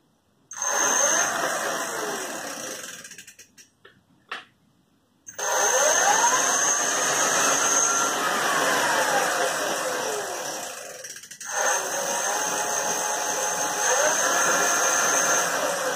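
A car alternator rigged as the motor of a homemade e-bike spins up with a steady whine and hum, stops briefly with a clunk, then runs again at a sustained pitch, loud and close with no talking.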